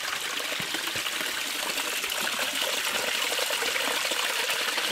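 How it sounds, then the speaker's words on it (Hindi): Cold snowmelt water rushes steadily down a mountain stream near Quetta, a continuous close hiss and gurgle of flowing water with no voices. "ये ठंडा ठंडा पानी यहाँ से बर्फ़ बन के निकल रहा है।"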